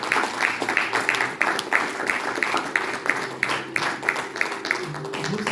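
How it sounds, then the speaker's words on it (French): Congregation applauding in a church service, a steady rhythmic clapping at an even tempo throughout, moderately loud with a faint murmur of voices beneath. "Applaudissons le Seigneur."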